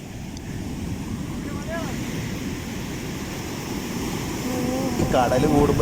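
Rough, roaring sea off the Kerala coast heard from a fishing boat, a continuous heavy wash of surf and wind noise buffeting the microphone, with voices talking faintly over it near the end.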